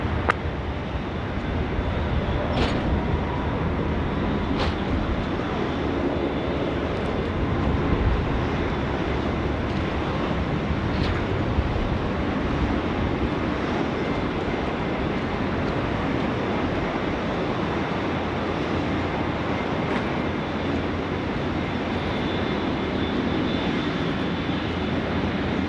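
A jet airliner landing on runway 16 right at Sydney Airport produces a steady, distant engine roar that persists evenly throughout, with faint intermittent clicks and no speech.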